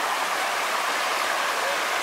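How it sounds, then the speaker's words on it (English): Meigs Creek in the Smoky Mountains rushes steadily nearby, a dense, even hiss of flowing water with no pauses, heard alone for a brief moment. "So Meigs Creek flowing this way right through here."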